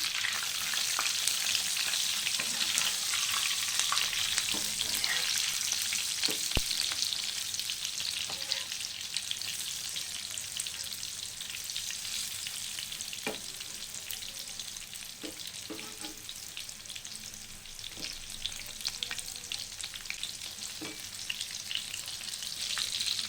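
Soybean pakoras frying in oil, a continuous bright sizzle with occasional soft taps and scrapes as pieces are turned one by one, steady and close throughout.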